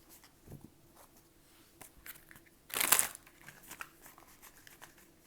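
Tarot cards are shuffled just out of view, soft scattered papery rustles building to one brief louder riffle, then settling into light crinkling.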